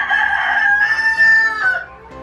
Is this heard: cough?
no